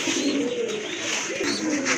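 A pair of Sun Grizzle pigeons coo nearby, soft low rolling calls repeating a few times in quick succession.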